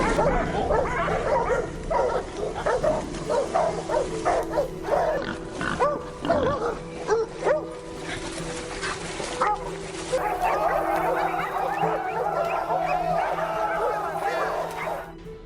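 Several hounds on a wild hog hunt bark and yelp excitedly over a long stretch, overlapping and frantic, with whimpers and grunting squeals mixed in, some voices close and others farther off.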